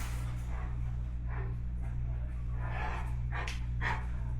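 A trained dog out on a walk gives a few faint, distant bursts of barking and panting, spaced irregularly over a steady low hum, with a voice faintly present.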